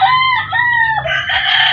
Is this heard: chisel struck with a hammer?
no